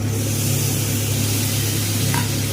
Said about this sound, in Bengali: এবার এর মধ্যে দিয়ে দেব মশলা ধোয়া জলটা